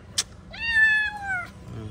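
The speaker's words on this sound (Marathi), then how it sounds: "कोणाचं मांजर आहे?" A single drawn-out meow from a nearby cat, preceded by a brief click, over quiet room noise.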